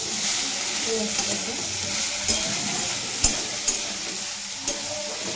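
Eggplant being stirred in a hot frying pan, a steady sizzle of frying with a few sharp clicks and scrapes of the spoon against the pan, close and alone.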